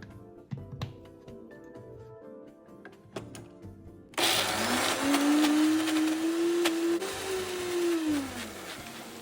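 A countertop blender whirs up to speed and runs loudly, purées 140 g of peeled, chopped shallots and 50 g of chopped garlic cloves, its motor pitch wavering, after a few seconds of quieter kitchen clatter.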